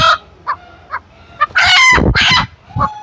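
Native country chicken (nati koli) on a farm, with short clucks followed by a loud close rooster crow and further clucking, no talking.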